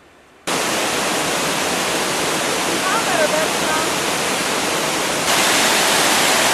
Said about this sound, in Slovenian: Ni hudega po unih pravih slapih, videti malo slapišča.